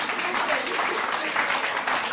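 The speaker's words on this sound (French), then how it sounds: "c'est toi que t'applaudis" Applause from a crowd in a room, a continuous dense patter of clapping heard up close for a couple of seconds.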